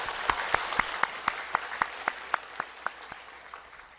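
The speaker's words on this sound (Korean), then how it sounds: "우리 하나님께 영광의 박수 한번 올려드리겠습니다" Applause from a church congregation during a Sunday service, a soft background patter punctuated by a slow, regular series of distinct louder claps that gradually fade.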